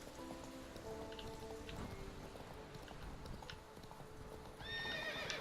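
Geralt's horse Roach in The Witcher 3, hooves clip-clopping steadily along in the rain with pattering drops and a whinny, the game's sounds continuous and close.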